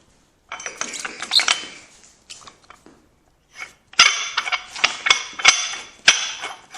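A rusted part of a 980 lb car lift grinds and clanks as it moves up and down, giving close, harsh metallic scrapes and knocks in uneven bursts with short pauses between them. No one talks.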